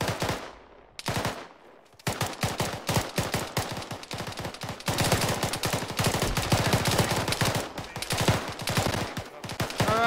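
Dense gunfire in a video game squad practice: rapid, overlapping machine-gun bursts and single shots rattle almost continuously and close by after a brief quiet opening.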